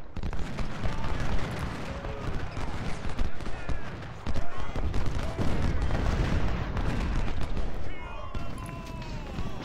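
Dense, continuous musket gunfire and cannon booms rumble throughout a Civil War battle in a strategy game, loud and sustained with overlapping volleys.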